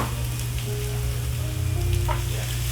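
Baby Bella mushrooms sizzle steadily in a hot pan, a dense, close crackling fry with light stirring, no voices.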